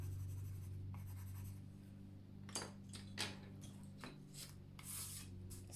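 Colored pencil rubs firmly across paper in scratchy strokes, burnishing and blending, starting as a continuous soft rasp and then breaking into separate louder strokes, close and quiet with a faint steady hum underneath.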